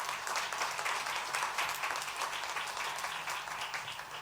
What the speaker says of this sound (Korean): 예, 박수로 격려할까요?